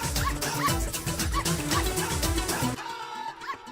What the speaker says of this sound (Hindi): इस कुत्ते से बचाओ।